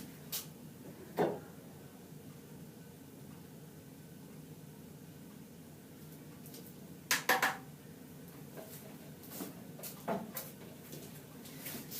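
Dishes and tools from a slab glazing session are cleaned up, with a few scattered clinks and clatters over a quiet, steady background hiss.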